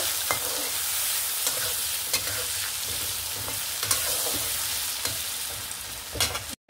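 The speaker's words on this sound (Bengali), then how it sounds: "এখন এইটাকে আলুটাকে আমি সুন্দর করে ভেজে নিব" Potatoes seasoned with salt and turmeric fry in a pan with a loud, constant sizzle, broken by repeated scrapes and clicks of stirring, close by and without speech.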